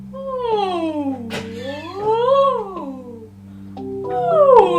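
A cat meows in several drawn-out, rising and falling calls over a low sustained musical backing, fairly close and clear.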